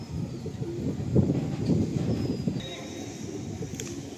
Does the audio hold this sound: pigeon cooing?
yes